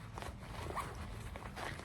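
A faint zipper rasps in short, quiet pulls on a purse's inside pocket, close by, with soft rustling of fabric around it.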